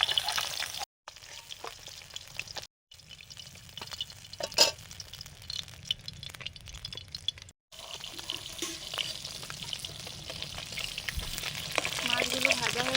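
Home-caught fish frying lightly in a pan, giving a steady soft sizzle with occasional stirring and clinks, plus bursts of running tap water at times, with no talk.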